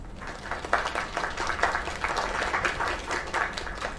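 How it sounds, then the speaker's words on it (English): Audience applause in an animated show: a steady, dense crowd of clapping hands, moderately loud and continuous throughout, with no talking over it. "Another round of applause."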